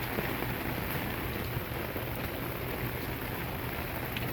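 Heavy rain pours down outdoors in a steady, dense wash of drops that stays loud and even throughout, with no voices.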